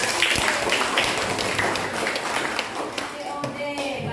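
Students in a junior high school classroom clap together in a dense, sustained round of applause with scattered sharper slaps, while voices are heard underneath.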